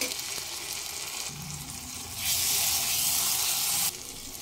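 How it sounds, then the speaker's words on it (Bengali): Spice paste with fresh tomato paste sautéing in a pan over a medium flame, a steady close sizzle that swells louder midway and then eases back, with faint stirring and no talk. "দিয়ে মশলাটা একটু কষিয়ে নেব। মিনিট 2 কষিয়ে নেব মিডিয়াম ফ্লেমে।"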